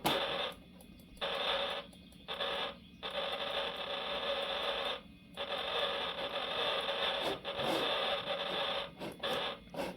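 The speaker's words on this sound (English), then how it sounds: "The sound of it exploding is pretty good for the PC speaker." Harsh, crackling PC speaker explosion noise from a DOS 3D tank game on a 386 PC, a buzzy burst of static that sputters in several bursts separated by short gaps over about ten seconds.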